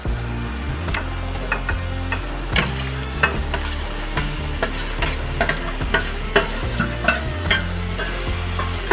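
Aloo gobhi vegetables are stirred into frying masala in a halwai-style pan, with loud, irregular scraping and clanking strokes of a ladle over a low sizzle, close up and without speech.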